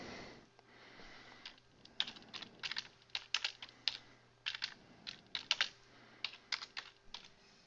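Quick, irregular keystrokes on a computer keyboard as text is entered, close and fairly quiet over a faint steady background hum, with no voices.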